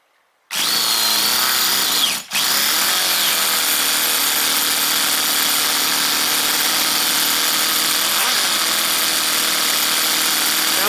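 A small high-revving nitro engine in a CEN Reeper RC truck, running old 25% fuel, bursts to life after a moment of silence, dips briefly, then buzzes loudly and steadily, close by.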